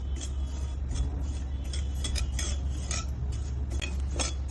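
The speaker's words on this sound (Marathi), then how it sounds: "आता कारळे छान भाजलेले आहे, चटचट आवाज येतोय" Niger seeds roasting dry in a hot kadhai give off sharp, scattered crackles and pops in irregular bursts over a steady low hum, fairly close and moderately quiet.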